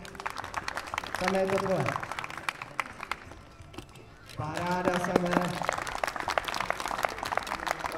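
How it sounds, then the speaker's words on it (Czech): An audience claps for a unicycle trick at a flatland unicycle game at Unicamp 2024, with scattered, steady applause running throughout while someone talks over it. "Paráda, zatleskáme mu."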